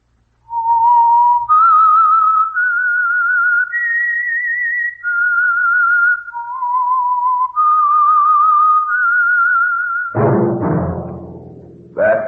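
A clear, loud whistled melody of sustained, wavering notes moving up and down in pitch, ending with a brief burst of other sound.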